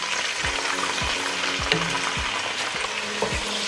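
Onion and iru (locust bean) frying in a pot for Nigerian efo riro, a steady broadband sizzle with regular low thumps of stirring about every half second, close and fairly loud, no voices.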